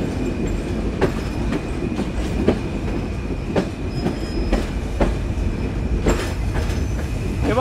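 Passenger train running on rails between Daulatpur and Noapara in Jessore district, a continuous loud rumble with repeated sharp clacks as wheels cross rail joints, heard from inside the carriage.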